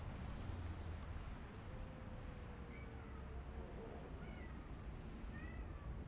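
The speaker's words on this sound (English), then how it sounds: "Big fluffy kitty. Cries." A big fluffy cat cries in a Guild Wars 2 game area in the Shiverpeak mountains, with faint, drawn-out meows rising over a steady, dense ambient background.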